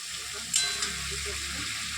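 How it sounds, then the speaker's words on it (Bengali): Food frying in a pan, a steady close sizzle throughout with a couple of sharp clatters of stirring near the middle. "ভাজবো"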